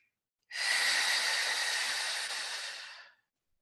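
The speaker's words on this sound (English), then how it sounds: "breathing out of your mouth as if you're blowing out candles on a birthday cake." A long, forceful exhale pushed out through pursed lips as if blowing out birthday candles during a breathing exercise, one sustained breathy rush close up lasting about two and a half seconds, alone.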